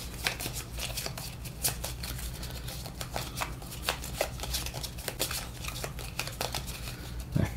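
A deck of cards is shuffled during a Harry Potter Hogwarts Battle deck-building board game, giving a steady, close riffling and flapping that runs throughout.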